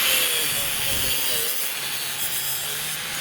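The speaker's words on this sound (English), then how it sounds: "So we just need our grinder to cut this." A handheld grinder cuts through a metal seat belt latch piece for a Honda Element micro-camper build, with a loud continuous grinding rasp that holds steady throughout.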